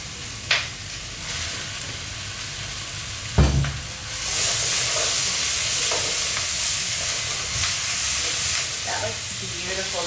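Onions and carrots sizzle steadily in a pot for vegetable broth, a constant frying hiss with occasional scrapes and clunks of stirring, loudest after the carrots go in.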